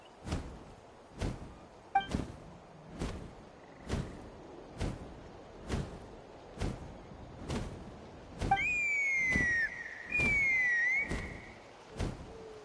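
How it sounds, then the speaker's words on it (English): In the Genshin Impact game world, a rising, sliding whistle sounds twice near the end, bright and clear over a steady series of evenly spaced dull thumps. "That sounded like a whistle."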